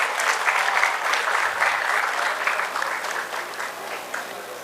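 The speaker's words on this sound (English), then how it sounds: "A big round of applause for sir." A hall audience at a distinguished lecture on the Indian space program gives a guest a loud, sustained round of applause. Dense clapping from many hands fills the room, easing slightly toward the end.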